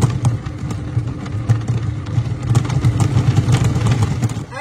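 Monsieur Cuisine food processor fitted with the WunderPeeler attachment running at speed 4, a loud steady motor drone with rattling and tumbling of vegetables inside the bowl, continuous throughout with no talk.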